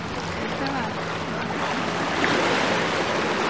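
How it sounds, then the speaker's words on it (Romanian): Sea waves wash along near a boat off the Croatian coast, a steady close rush of water mixed with wind buffeting the microphone and a low engine-like hum, with no clear individual wave breaks. "S-aud valurile."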